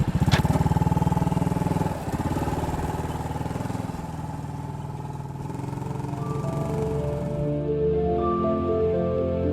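A small Postie bike motorcycle on a ride around Australia, its engine droning loud and close with a steady, slightly pulsing note that shifts as the rider changes throttle.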